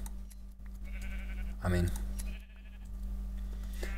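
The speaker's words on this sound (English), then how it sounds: "And yeah, lots of sheep again." A single short sheep bleat from a Minecraft flock rises briefly over a steady background hum, while someone talks casually over the game.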